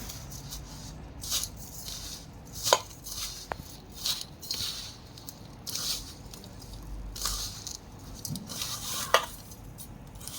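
Suji batter with garam masala and cumin powder being mixed by hand in a bowl, giving soft wet squelching and scraping with occasional sharper clinks against the vessel, steady and close, no voices.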